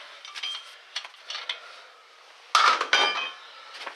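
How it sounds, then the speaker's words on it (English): Metal lug nut coming off a Ford Taurus front wheel during a brake rotor job, heard as a few sharp metallic clinks and rattles, close and fairly loud, with quieter tool clatter before them. "And now we'll take our last nut off."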